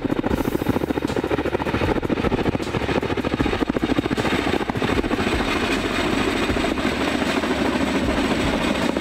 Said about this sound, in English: Military cargo helicopter. Heavy transport helicopter.